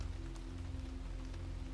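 Steady, soft rain falling on a surface, a continuous faint patter with a low hum underneath and no distinct drops standing out.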